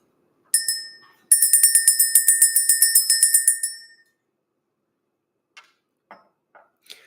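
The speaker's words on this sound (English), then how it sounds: "Let's go ahead and ring this bell." A small bell is struck once and left to ring out, then struck again in a rapid run of about a dozen bright, ringing strikes that fade away, followed by a few faint soft taps.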